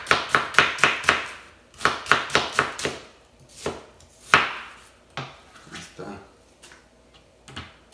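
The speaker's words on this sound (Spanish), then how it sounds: "Vamos a picar la cebolla en rajitas." A knife slicing onion into strips on a cutting board: a close, crisp run of rapid, evenly spaced chops in quick bursts, then slower, scattered cuts with pauses between them.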